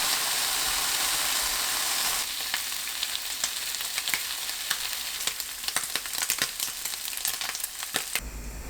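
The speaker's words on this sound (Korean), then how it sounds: "팬에 중불로 훈제 삼겹살을 구워줍니다." Slices of smoked pork belly fry in a pan over medium heat, a dense steady sizzle punctuated by frequent sharp spitting crackles and pops of fat, loud and close with no voices.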